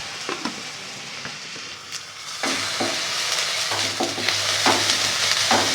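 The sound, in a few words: onions and ginger garlic paste frying in a pan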